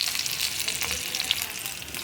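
Parshe fish frying in a pan, a steady bright crackling sizzle with scattered pops, close and continuous throughout with no voices.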